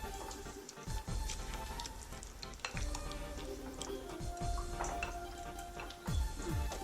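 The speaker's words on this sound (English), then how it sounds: "let's give it a quick mix" Utensil stirring a sauce mixture with dill in a pan, for a Greek dish, giving repeated soft wet scrapes and clinks against the metal over a faint background sizzle.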